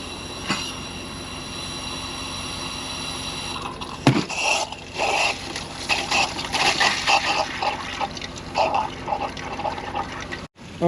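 A garden hose runs outdoors at a winter cow pasture in Kansas, giving a steady broadband rush of water with a high squealing tone, loud and close with some clattering.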